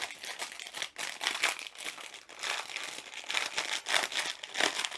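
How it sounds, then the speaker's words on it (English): Crinkly plastic rustles and crackles as a glue strip is peeled open on a diamond art kit bag, a close, continuous crumpling in uneven surges. "We have a glue strip, so all we do is peel it."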